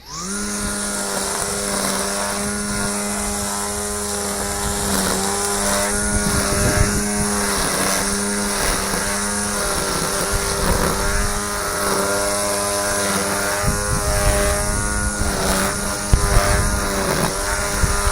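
A Greenworks Pro 80V lithium 21-inch 3-in-1 lawn mower runs with a steady, loud electric whine and motor hum, its blade roar shifting slightly as it moves through longer grass, with no speech.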